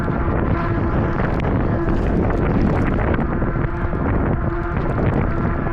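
A strong headwind buffets an e-bike rider on the road, making a loud, continuous roar of wind rushing over the microphone with no break.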